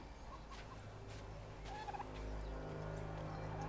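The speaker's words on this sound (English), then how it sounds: "There's turkeys." Turkeys gobble among the livestock in a colonial city centre in the video game Assassin's Creed III Remastered, one short, faint burst of gobbling over a low ambient hum.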